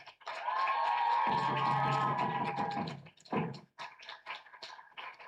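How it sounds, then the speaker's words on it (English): Audience applause at a school Year 13 graduation ceremony, a sustained wash of clapping that swells quickly, holds steady for about three seconds, then breaks into scattered, fading claps. "Big round of applause for Secondary Deputy Principal, Ms. Rina Srikan."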